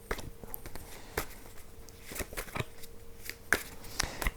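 Tarot cards being shuffled and drawn: a run of soft, scattered riffling and sharp card snaps, irregular and close, with brighter clicks near the end and no speech.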